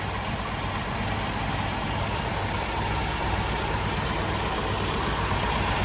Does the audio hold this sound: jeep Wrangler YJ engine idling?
yes